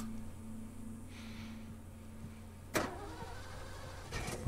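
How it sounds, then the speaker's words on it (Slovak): A car engine in the video game The Last of Us, a low steady idle hum running throughout, broken by a sharp mechanical clunk partway and a brief rattle near the end; no talk. "Počujem auto."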